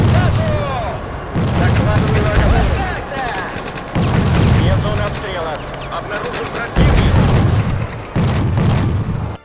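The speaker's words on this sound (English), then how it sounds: "I will have him do fire support with my T-34" A T-34 tank providing fire support in a video game, several heavy booming shots spaced a few seconds apart, loud and close, heard beneath ongoing conversation between players.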